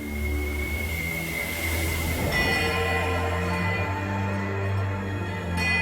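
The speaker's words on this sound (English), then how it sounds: "The ring of a bell comes to you on a cold wind." A bell rings out on a cold wind in the game Pillars of Eternity 2, a sustained tone rising over a low droning ambience and holding steady without speech.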